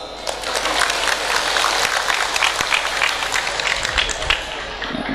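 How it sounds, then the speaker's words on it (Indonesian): A crowd listening to a humorous motivational sermon claps steadily, a thick, even wash of applause with scattered sharper claps, sustained from start to finish. "Boleh tepuk tangan."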